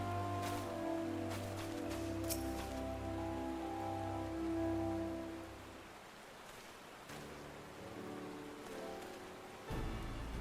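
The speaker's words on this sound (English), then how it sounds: "Why is it always raining these days?" Steady rain falls in Final Fantasy XIV, a soft continuous hiss of drops layered under game music and ambient tones, fairly faint throughout.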